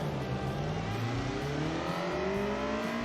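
A throaty four-cylinder car engine in BeamNG revs up repeatedly, rising whining pitch sweeps over a rough low growl, moderately loud and continuous with no talk.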